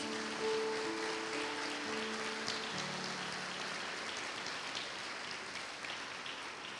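A church congregation claps together as a broad, steady wash of applause that fills the room and holds at an even level throughout, with a low sustained tone underneath at first.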